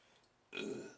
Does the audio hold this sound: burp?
yes